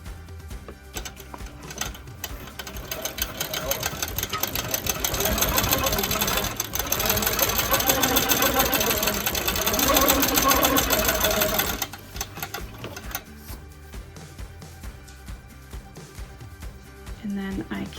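A Quilt Maker Pro 18 quilting machine stitches vertical basting lines, its rapid mechanical chatter swelling into a steady loud run for several seconds before dropping back to quieter ticking and handling noise.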